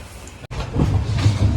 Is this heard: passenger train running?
yes